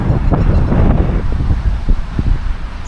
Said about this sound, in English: The wind's just getting worse and worse.